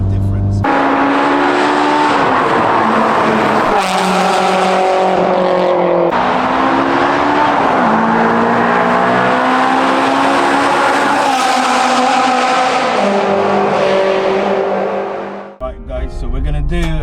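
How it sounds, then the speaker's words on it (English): A Honda S2000 with an aftermarket exhaust revs hard and loud from inside the car, its engine note climbing and dropping through repeated high-rpm pulls, ending in a brief cut and a deep burble. "it's nice to actually have this car sounding like this"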